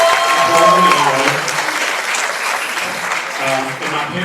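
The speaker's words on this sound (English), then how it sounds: "Let's give it up for Becky and all the children." Full, continuous audience applause fills a college hall during a campus country music showcase, with voices murmuring underneath the sustained clapping.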